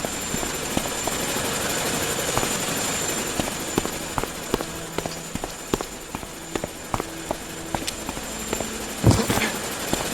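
Helicopter in a Chornobyl Liquidators game cutscene, a steady rotor drone holding throughout with scattered clicks and footstep-like knocks over it, and a brief louder swell near the end.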